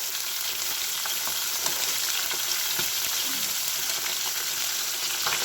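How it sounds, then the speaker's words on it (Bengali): Fish frying in hot oil, a dense, even crackling sizzle held close and loud throughout with faint utensil knocks underneath. "আর এই যে মাছ কটা ভাজতে বাকি আছে।"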